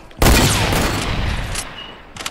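A hunting rifle fires in a video game: one sharp, loud blast opens a dense burst of gunfire that rumbles and fades over about two seconds, and a few faint clicks follow.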